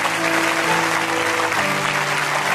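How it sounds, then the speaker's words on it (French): Church congregation applauding together in a sustained, dense burst of clapping that fills the room from start to finish, steady and loud without pauses. "Acclame si tu me suis,"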